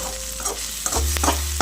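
Ginger garlic paste roasts in a pan for pasta, a short burst of close sizzling with a few stirring scrapes and clinks, no voices.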